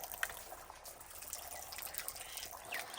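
Water runs in a steady, hissy stream with faint splashes and drips while laundry is washed outdoors, continuous and fairly close, with no talk.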